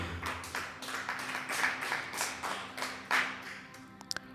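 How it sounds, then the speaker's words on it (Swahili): A church congregation claps together in praise during a sermon, a run of rhythmic hand claps at moderate distance, fairly faint, with a couple of sharp taps at the close. "Hebu mchapie Bwana Yesu makofi."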